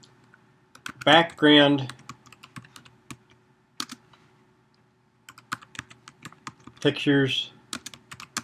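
Keystrokes on a computer keyboard while typing a search, scattered clicks through the clip with someone talking before and after the burst of typing.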